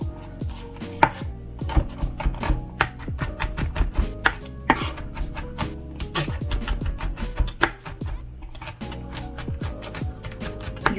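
A knife chops cucumber on a cutting board at home for cucumber kimchi. It makes a steady run of sharp, close taps, with a few clusters of faster strokes and short pauses.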